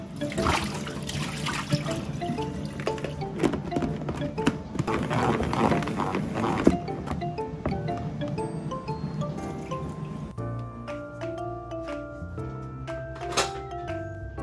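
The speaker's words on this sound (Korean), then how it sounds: "닭고기가 구워지는 동안 샐러드 야채를 씻습니다" Salad vegetables are washed under running water in a kitchen sink, with splashing, trickling and dripping mixed with light handling clatter, close and fairly loud throughout.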